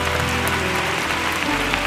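A church congregation claps together, a continuous wash of hand claps over sustained musical tones, steady and moderately loud throughout.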